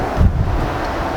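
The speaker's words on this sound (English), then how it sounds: "Bit windy." Wind buffets the microphone outdoors in a short, loud rumble while a Miyabi Mizu kitchen knife is sharpened on Shapton Glass stones.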